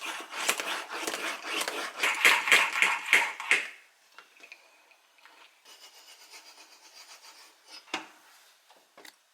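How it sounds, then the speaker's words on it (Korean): Roughly 200 ml of milk frothed in a French press for a peanut butter latte: fast, rhythmic scraping plunger strokes, loud and close for about four seconds, then fainter scattered rubbing and taps. "프렌치 프레스에 우유를 약 200ml 정도 넣고"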